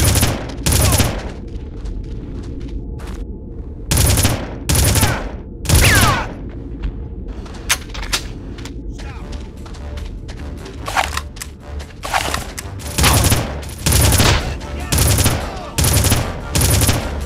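Gunfire in the shooter game Red Faction comes in loud, sharp volleys and bursts of varying length, separated by quieter stretches of faint echoing shots and rumble across the whole span.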